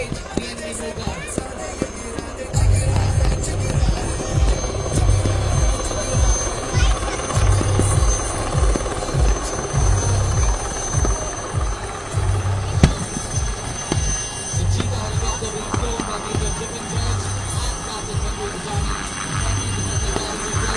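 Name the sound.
Cheetah helicopter flying at a military tattoo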